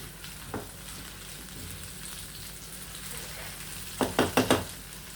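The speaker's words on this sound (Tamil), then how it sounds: "நல்லா வணங்கிருச்சு சுண்டைக்காய்." Turkey berries sautéing in hot coconut oil give a steady, faint frying sizzle throughout, with a quick burst of several louder clattering stirs near the end.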